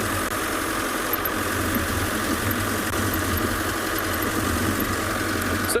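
A safari vehicle's engine hums steadily on an afternoon game drive in South Africa, a loud, close, unbroken drone with no pauses.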